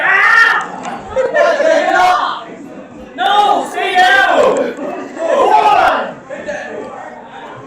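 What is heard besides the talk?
wrestling event crowd shouting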